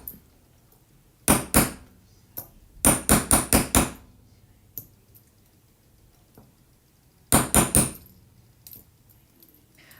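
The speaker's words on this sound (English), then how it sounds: "And so I'm just gonna hammer it." Small metal hammer tapping down a jewelry bezel, struck in sharp ringing bursts: a double tap, a quick run of five, a lone strike, then three more after a quiet pause, close and crisp.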